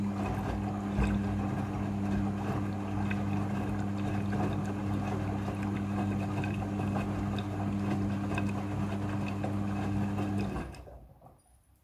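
A front-loading washing machine rinses a thick blanket: a steady, low motor hum with churning water holds evenly for about ten seconds, then winds down and fades out.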